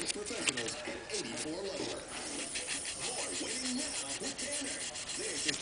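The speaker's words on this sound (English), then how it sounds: "There's once on each side of the folded ½ inch sandpaper." Folded half-inch sandpaper rubs back and forth over a surface in steady scratchy strokes, fairly close, with a person talking throughout over the sanding.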